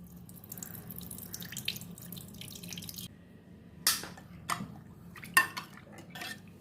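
Water is added to a bowl of blended amla (Indian gooseberry) juice: a soft trickle and a few sharp clinks and splashes of liquid against the bowl, close by, over a low steady background hum.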